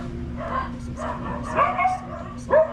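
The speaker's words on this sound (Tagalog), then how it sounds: "Napakaingay ng aso" A dog barks and yips several times in quick irregular bursts over a constant low hum, the last bark louder and sharper.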